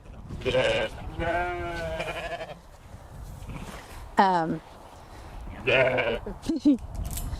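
Goats in a farm pen bleat several times, with loud wavering cries that come close by, mixed with people talking.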